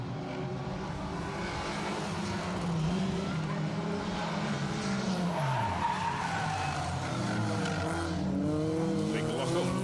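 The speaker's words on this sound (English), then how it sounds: "Big lock-up, as you heard, from Rob Fisher and Carrie Bates" A rally car locks its tyres during a stage of the SMC Stages Rally, Protyre Circuit Rally Championship, producing a loud drawn-out skid and squeal with engine roar rising and falling, while a commentator talks over it.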